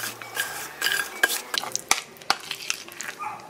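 Chopped vegetables are tossed by hand with a chili-flake seasoning for a Korean crown daisy muchim in a bowl, making soft, close rustling and stirring with light clinks of utensils and dishes.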